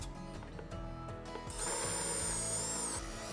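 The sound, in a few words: drilling holes in table saw extension wing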